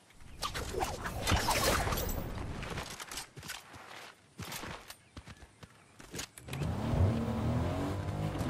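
A 4x4 vehicle driving in Fortnite, engine revving and surging with crunchy rumbling bursts and short gaps, ending in a sustained louder engine note.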